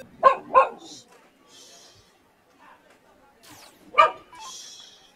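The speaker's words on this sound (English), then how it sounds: "Looks like Ryan's puppy may have jumped up there in the background." Small puppy barking in the background, three sharp yaps spaced out over a few seconds, with a faint voice between them.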